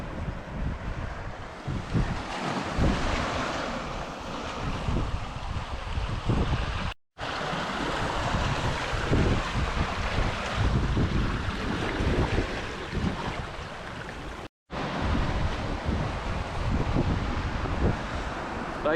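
Strong coastal wind roars over sea cliffs in Scotland, buffeting the microphone in a loud, continuous rush that is broken only by two brief silent gaps.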